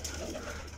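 Pigeon on a rooftop loft giving a short, soft coo, faint and low against background hum.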